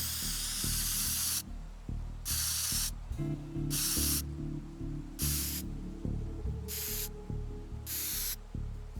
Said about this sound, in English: Spray can? I didn't even see this.